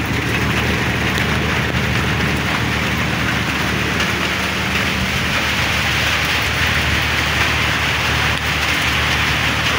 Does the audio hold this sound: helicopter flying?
no